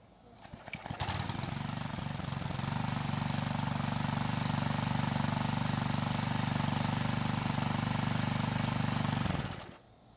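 A small gas engine on a Troy-Bilt lawn edger catches after a brief pull, then runs at a steady loud drone for several seconds before cutting off.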